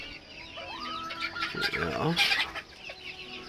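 An old Cochin hen clucks and murmurs up close in a few soft, rising calls, with a short burst of louder fowl noise midway and a person talking briefly nearby.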